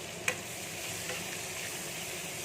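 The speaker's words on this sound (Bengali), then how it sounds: "এবার দিয়ে পেঁয়াজটা আমি ভেজে নেব" Onion frying in oil with black cumin in a pan, a soft steady sizzle with a couple of brief clicks of stirring, quiet and close, with no voices.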